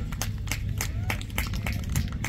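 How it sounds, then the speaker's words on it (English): A small crowd at a polo match claps in scattered, uneven bursts, fairly close, with light background noise and no clear speech. "Give them a big round of applause."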